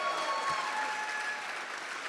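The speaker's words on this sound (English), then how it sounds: "How about a round of applause for these guys?" Steady applause from a gala audience, a continuous wash of clapping at moderate level with no voices on top.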